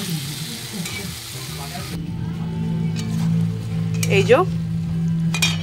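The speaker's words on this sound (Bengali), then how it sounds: "এটা অ্যাড করে দেওয়ার পর আমি একটু নাড়িয়ে নেব।" Cashew and ginger paste fries in a pan with stirring, a soft crackle in the first couple of seconds. A steady low hum follows, and a person speaks briefly over it.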